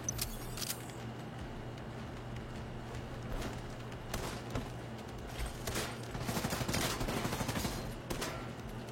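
Gunfire in a video game with snipers, sounding as a series of sharp cracks scattered across the clip, some clustered in quick bursts, over a steady low background hum.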